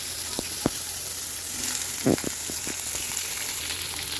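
Masala spices frying in hot oil in a pan for mutton sambar, a soft steady sizzle with a few sharp crackles and stirring clinks, close and moderately loud.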